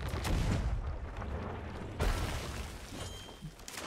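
Heavy cannon impacts pound a ship in Sea of Thieves, a loud crash at the start and another at the two-second mark amid rumbling, clattering battle noise.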